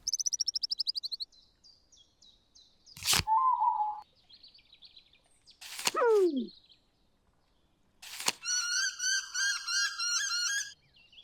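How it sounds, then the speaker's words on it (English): Recorded bird calls from the Wingspan board-style video game sound as separate clear chirps, whistles and trilled songs, each ending in a quick swooping call, with silence between the calls. "I just love how the birds animate from the cards and use actual bird recordings"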